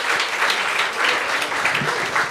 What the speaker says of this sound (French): On peut t'applaudir.